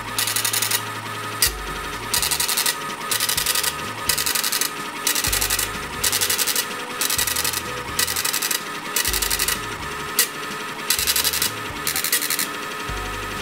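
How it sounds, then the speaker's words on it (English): A microhardness tester's printer prints results in rhythmic bursts of buzzy mechanical chatter, each lasting about a second and separated by short pauses, repeating steadily about nine times and heard alone at moderate, close level. "And we hear the printer printing out the results."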